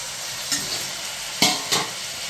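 Mutton is stirred in a hot pan, a steady close sizzle broken by a few sharp scraping stirs, with no talking.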